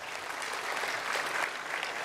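Audience applause at a provincial crime summit in KwaZulu-Natal, a steady, dense wash of many hands clapping continuously, moderately distant and unbroken.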